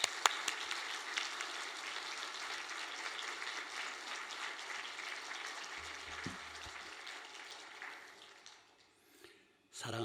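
A church congregation applauding at a Wednesday evening worship service, sustained dense clapping that carries on for several seconds and then fades out, with a brief burst of sound at the very end.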